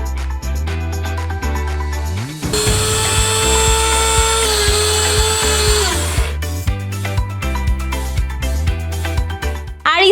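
An electric grinder pulverises coriander seeds into spice powder with a loud, high, steady whine that lasts several seconds. Busy clattering and buzzing surround it before and after.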